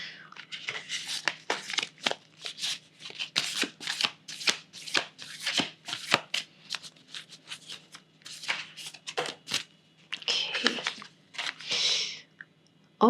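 A deck of oracle cards is shuffled by hand in a quiet room, a long run of rapid papery riffles and flicks in uneven bursts, close and clear with no talking.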